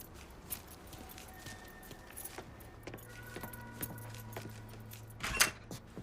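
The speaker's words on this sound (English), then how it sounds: "Lincoln, pick up the keys." Short metallic jingle of truck keys being picked up in Mafia III, a brief clink near the end over a quiet ambient game background.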